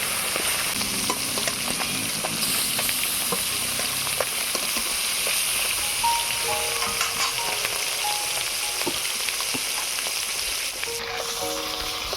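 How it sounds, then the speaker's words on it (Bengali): Live koi fish fry in mustard oil in a wok over a lit stove, a dense, continuous crackling sizzle with scattered pops and spits running steadily throughout, close and fairly loud, with no talking. "মাছগুলোর একটা সাইড ভালো করে ভাজা হয়ে গিয়েছে, আবার একটা সাইড ভালো করে ভেজে নেবে।"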